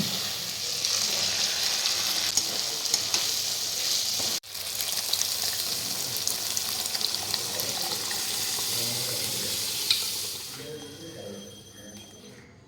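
Masala of ginger and cumin paste frying in a pan beside vegetables, a steady close sizzle with water-like hiss, briefly cutting out near four seconds and dropping off toward the end.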